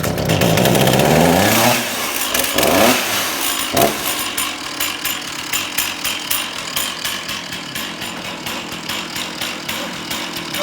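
A flooded chainsaw is pull-started and catches, its small two-stroke engine sweeping up loud and rough before settling into a steady, pulsing idle, very close, with no talk over it.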